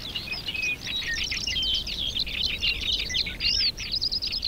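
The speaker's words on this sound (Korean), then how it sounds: "초여름까지 습지는 새들의 짝짓기 소리로 가득합니다" Many birds sing together at once in a wetland during early summer mating season: a dense, continuous chorus of high twittering and warbling phrases, fairly close and steady throughout.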